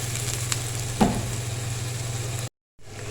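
Chopped onion sizzling in hot oil in a pan for an egg tikki masala, a steady frying hiss with one brief clatter, cutting out abruptly near the end before resuming.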